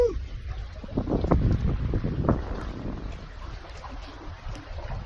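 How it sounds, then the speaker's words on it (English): Wind gusts buffet the microphone outdoors, a steady roaring rush with louder bursts early on, faint and unbroken throughout. "Man, is it windy out here"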